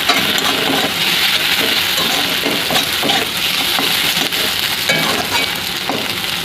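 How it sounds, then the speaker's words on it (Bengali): Potatoes frying in a pan give off a steady, loud sizzle with faint stirring scrapes, continuous and close with no talking. "এই আলুটা একটু ভালো করে ভেজে নেবো।"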